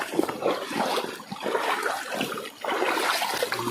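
Water of a small mountain creek flowing and trickling nearby, a continuous close rushing babble that briefly dips before surging again.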